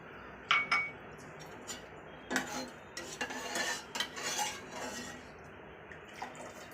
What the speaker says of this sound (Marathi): आता मी इथे बघा चमच्याने चांगल्या प्रकारे हलवून घेते